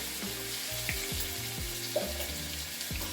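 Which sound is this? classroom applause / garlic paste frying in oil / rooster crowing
garlic paste frying in oil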